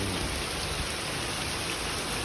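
Heavy rain pouring down in Saudi Arabia, a dense, steady hiss of drops hitting the ground, loud and unbroken.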